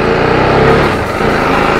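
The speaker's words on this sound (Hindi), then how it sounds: "इसके अंदर BMW का इंजन है।" A TVS Apache RR 310 motorcycle with a BMW-built engine runs at a steady, loud drone close by, holding a constant throb with a slight dip midway and no voices.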